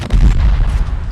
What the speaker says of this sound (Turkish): İkisi de çünkü patlama efekti zaten.